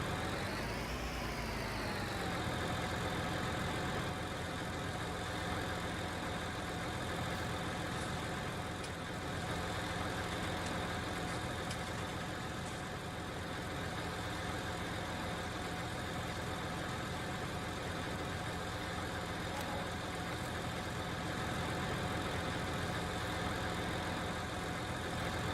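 A tractor engine runs steadily in Farming Simulator 19, a continuous mid-pitched idle-like drone with a brief rev at the start, loud and close throughout with no talk over it.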